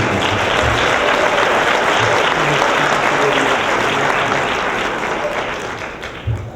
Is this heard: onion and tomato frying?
no